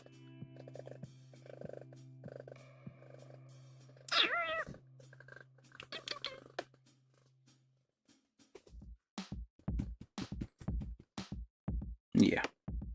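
A pet cat indoors gives a few short, close meows and chirps, rising over a low steady hum and household sounds, with brief faint vocal noises scattered through the latter half.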